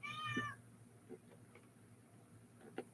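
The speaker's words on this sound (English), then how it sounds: "If you can hear my cat" A house cat meows several times in quick succession near the start, a clear close-up cry, then only faint room noise with a few small ticks follows.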